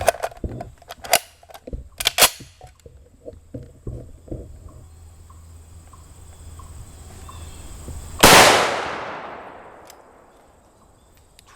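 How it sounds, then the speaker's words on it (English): A 7.62x51mm NATO armor-piercing rifle round strikes an AR500 steel armor plate with one loud, sharp crack and a long, fading ring. Fainter scattered clicks and knocks come before it. "Let's hit it with a couple more. We'll take one more shot at this guy."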